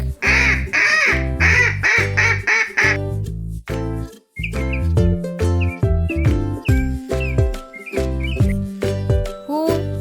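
Cartoonish duck quacks come in a quick run of loud nasal bursts, then scattered higher squeaky calls over a bouncy, tinkling children's music backing.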